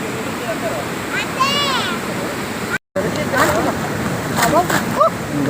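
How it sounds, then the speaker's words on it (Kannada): Water rushes forcefully through Gajanur Dam near Shivamogga, a broad, constant roar filling the scene while people talk over it. "ಅಲ್ಲಿ ತುಂಬ ಫೋರ್ಸಾಗಿ ಬರ್ತಾ ಇದೆ ನೀರು"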